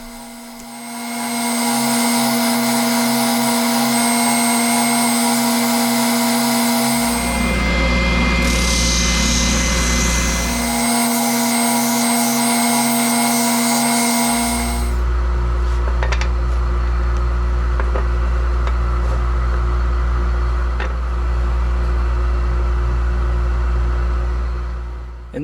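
Bauer oscillating edge belt and spindle sander running in a workshop, a loud steady motor hum with a high whine, shifting in pitch and character partway through as the mode or load changes.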